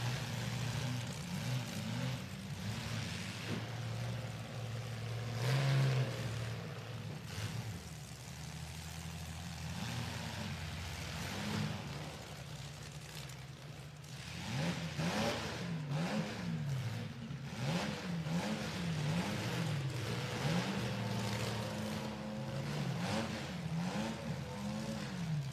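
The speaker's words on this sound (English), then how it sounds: "Mustang once again struggling to stay running at low RPMs." A Mustang race car engine labors and stumbles at low RPM, rough and uneven, then climbs into a series of wavering revs, heard at a distance amid steady crowd and venue noise at an indoor motorsport event.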